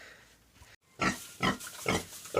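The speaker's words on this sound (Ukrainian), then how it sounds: "Свинка наша вже потихеньку готується до опоросу." A pregnant farm pig grunts close by in several short rough bursts, roughly evenly spaced, after a quiet moment, with no talk.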